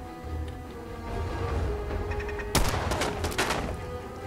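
Gunfire in the video game Fallout 4, a sudden loud burst of several rapid shots with a sharp first crack, heard over a steady bed of game ambience and background music.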